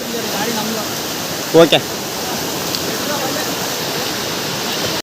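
A hidden waterfall in forest near Thirthahalli roars as a steady, loud rush of broadband noise, with a brief word spoken over it partway through.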